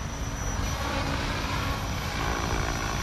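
An RC helicopter hovers on its own in GPS mode, giving a steady, even rotor and motor whine that holds constant throughout with no talking.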